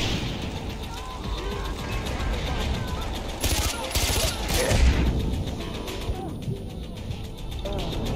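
Gunfire from a gun in Far Cry 4 rattles in bursts through the middle of the clip, set against steady game ambience with rumbling vehicle-like noise beneath.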